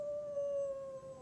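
A person imitates a wolf howl during a bedtime story reading, holding one steady, sustained vocal tone throughout, close and moderately loud with no other sounds.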